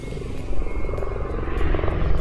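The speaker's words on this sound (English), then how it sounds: "now helicopters overhead" A helicopter passes overhead, a low, continuous rotor thrum with faint rhythmic beating, moderately loud and steady through the moment.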